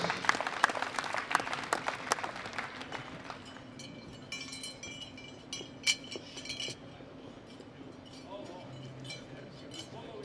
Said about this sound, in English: Round of applause for all of our winners.